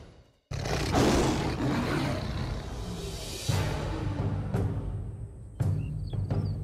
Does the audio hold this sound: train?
no